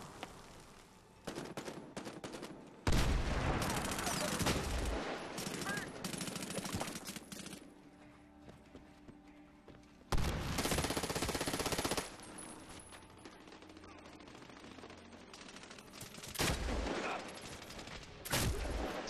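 Gunfire from the Medal of Honor Warfighter online multiplayer game, with loud, dense bursts of shots and explosions alternating with quieter stretches of game ambience.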